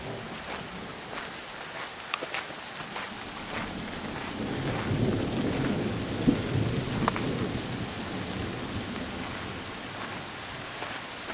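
Thunder rolls low and long during steady rainfall in Kuusankoski, Finland, the rumble swelling midway through over continuous patter and a few sharper drops, with no voices.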